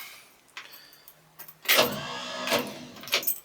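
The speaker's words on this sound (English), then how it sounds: "Truck starts right up." A 1956 GMC half-ton truck with its original Pontiac V8 cranking and starting, with a few quiet clicks and rattles before the engine catches and rumbles in bursts.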